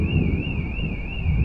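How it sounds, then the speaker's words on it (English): An outdoor alarm in Italy wails with a steady warbling siren tone rising and falling in even cycles, loud and continuous over wind noise. "Oh, some alarm's gone off now."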